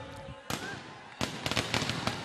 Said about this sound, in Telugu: చిరంజీవి గెలిచినప్పుడు బ్రహ్మాండంగా బాణసంచా పేల్చాలి, కానీ ఇప్పుడే పేల్చేస్తా ఉన్నాడు.